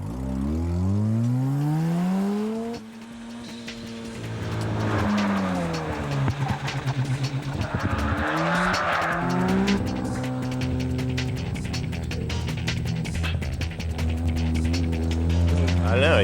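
A 1984 Mazda RX7 on a practice run around a track, engine revving up and down through gear changes with tires squealing in corners, heard continuously and fairly close under a commentator's voice.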